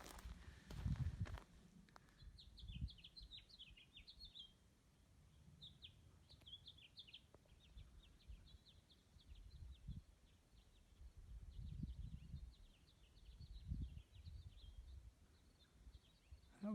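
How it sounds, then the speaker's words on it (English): A male house finch sings faint warbling phrases repeatedly in a quiet desert setting with juniper and yucca, distant and soft, with low rumbling footsteps or handling noise underneath. "That was the sound of a male house finch."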